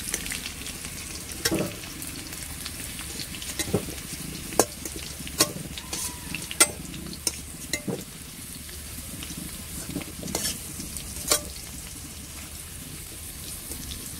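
Potato pieces fry in hot oil until reddish brown, giving a constant crackling sizzle with frequent sharp ticks and spatters and occasional scrapes of a spatula in the pan.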